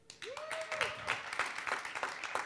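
Scattered audience applause at a comedy talk, a thin, uneven run of claps with a brief vocal whoop near the start, fairly quiet and distant.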